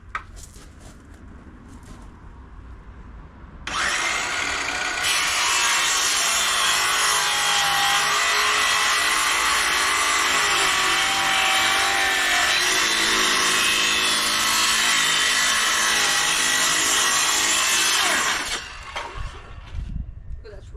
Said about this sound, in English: I got my dad's good drill again.